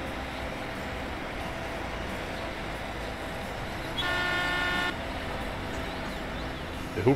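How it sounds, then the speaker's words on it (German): A vehicle horn in the farming game Professional Farming Cattle and Crops gives one clear, steady toot lasting about a second midway through, over a constant low rumble of engine and road noise. "Hier wird nicht gehupt."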